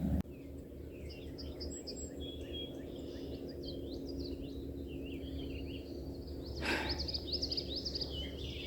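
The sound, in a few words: birds singing at a lake in a park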